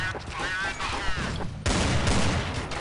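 Rapid bursts of gunfire in a competitive first-person shooter match, loud and close, with sharp cracks in quick clusters and a heavier volley in the second half.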